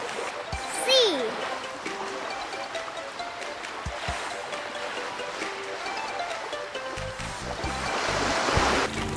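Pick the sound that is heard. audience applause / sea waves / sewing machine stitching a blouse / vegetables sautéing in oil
sea waves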